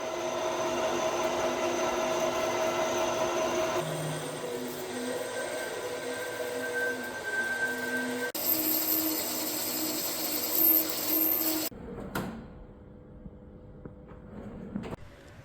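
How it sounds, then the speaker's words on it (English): Metal lathe turning a custom axle bush for a BMW K1200RS motorcycle, a sustained whirring hum with shifting tonal whines and cutting chatter, changing pitch in stages before cutting off abruptly near the end. "So off to the lathe."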